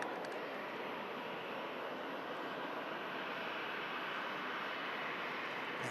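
An Airbus A380 jet in a special Dubai livery gives off a steady, distant broadband roar at an airport, the sound faint and unbroken with no voices over it.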